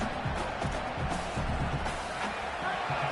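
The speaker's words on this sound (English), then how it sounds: "Listen to this crowd just shaking the girders of this place, trying to help their defense." A large crowd at a college football stadium roars steadily in a big open space, a continuous loud wash of cheering and shouting with no pauses.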